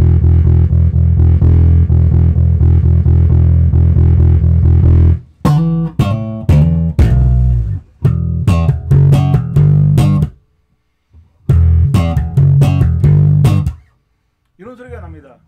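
A bass guitar switched to passive mode plays a sustained low note, then a run of short plucked notes and phrases separated by brief silences, close and loud.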